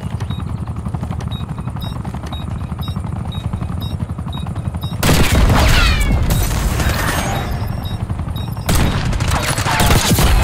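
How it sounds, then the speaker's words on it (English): Gunfire in Black Ops 6, a sniper rifle shot punching through a thick wall, bursts out loud and sudden midway over steady game noise, followed by dense crackling shots and a second loud burst near the end. "I can't believe I shot through that thick ass wall like that"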